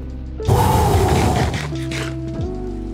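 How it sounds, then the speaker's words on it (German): Rain begins in the Minecraft video game, a sudden dense hiss that rushes in loud, then eases into a steadier patter with a low hum behind it. "Das Blöde ist nur, dass es jetzt regnet und das heißt, es können Monster spawnen."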